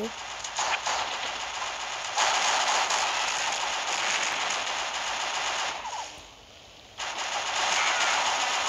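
Rapid automatic gunfire in the Mini Militia mobile shooter game rattles in long continuous bursts, with a brief lull before the shooting resumes.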